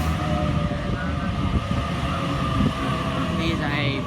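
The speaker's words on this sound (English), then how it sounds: "Here's a passing train on platform 1. Does not stop." A train runs through platform 1 at Ashfield station without stopping, a loud, steady close rumble with rail noise filling the whole moment.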